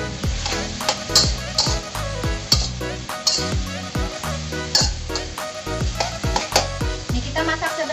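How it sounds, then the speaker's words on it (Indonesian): Salted peda fish and petai stirred in a sizzling pan, a steady frying hiss broken by repeated scraping strokes of a spatula against the metal, close and fairly loud, with no talk. "Kita aduk lagi."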